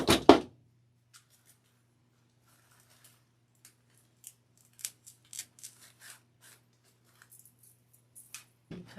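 Close, quiet snips of scissors trimming artificial floral stems for a pink and yellow spring topiary, a short loud cut at the start followed by scattered light clicks and snips in a quiet room.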